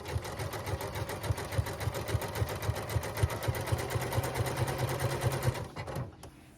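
A sewing machine zigzag-stitches a Halloween ghost applique, its needle hammering in a fast, even mechanical rhythm close by for several seconds before slowing and stopping.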